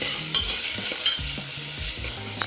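Chopped onions hit a pan where garlic is already frying, sizzling steadily with a spatula scraping and knocking through the pan, close and clear, with no voices.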